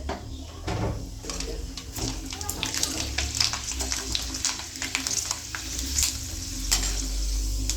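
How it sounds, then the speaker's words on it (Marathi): Homemade potato chips fry in well-heated oil, a steady close sizzle with bubbling and occasional stirring scrapes and clinks, with no talk. "मी आता तळते त्याला तेल तापलंय"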